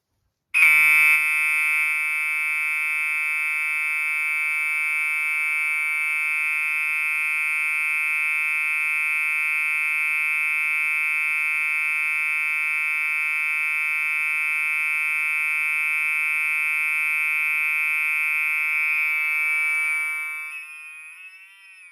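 A fire alarm horn with an original pre-Commander 3 horn blares in one continuous, unbroken electronic tone, loud and close, before cutting off and fading at the end.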